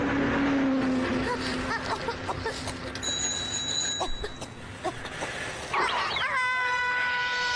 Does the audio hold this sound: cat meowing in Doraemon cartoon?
yes